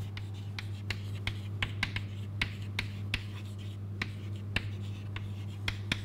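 A pen traces the curves of a tangle diagram on paper, giving sharp, evenly spaced ticks and short scratches up close over a steady low hum, with no speech.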